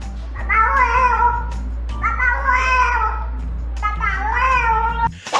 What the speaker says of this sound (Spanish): El único gato que habla.